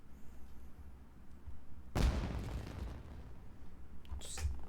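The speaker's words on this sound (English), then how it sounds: "It sounded like fireworks." A single loud firework blast in a video game erupts suddenly and trails off into a long rumbling decay, followed by faint voices and small effects.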